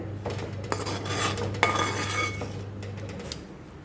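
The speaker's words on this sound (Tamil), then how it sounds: "நல்லா எல்லாத்தையும் சேர்த்தாப்பில் கிளறி விட்டுட்டு" Narthangai pachadi, a thick Tamil citron relish, being stirred in a pan, with a steady series of metal utensil scrapes and clinks against the pan, one sharper knock partway through, over a low steady hum.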